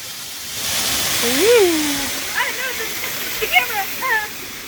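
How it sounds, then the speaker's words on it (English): Ruby Falls, a waterfall dyed green for St. Patrick's Day and running in flood, gives a steady rushing roar of falling water while a person talks over it. "It's an Irish waterfall."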